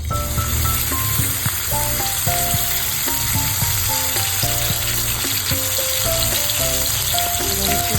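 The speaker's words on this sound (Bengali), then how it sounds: "আজকে খাসির চর্বি দিয়ে ঘুগনি রান্না করবো তাই চর্বিটা ভেজে নিচ্ছি" Goat fat frying in oil in a home kitchen, a loud, steady crackling sizzle that runs unbroken from start to finish with no talking.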